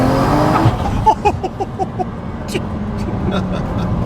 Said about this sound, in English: That turbo sounds amazing though.